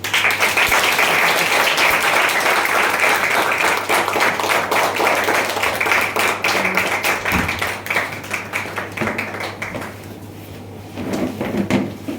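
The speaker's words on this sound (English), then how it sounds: "Send them back with a great round of applause" Crowd at a club meeting celebrating Pongal gives a long, hearty round of applause, dense clapping that gradually thins and fades, with a few voices and a bump near the end.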